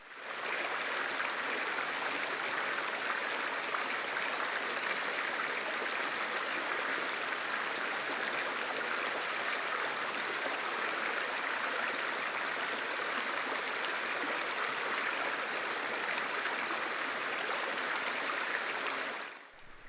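River water flowing steadily through Lapland wilderness, a stone-bedded stream rushing nearby as a continuous broadband wash with no pauses or voices.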